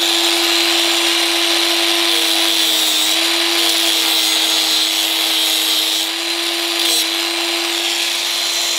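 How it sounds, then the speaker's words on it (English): A power grinder cutting off a push-fit fastener from a shaft, a loud, close, continuous high whine that holds steady throughout with only slight wavers in pitch. "I usually just grind it off."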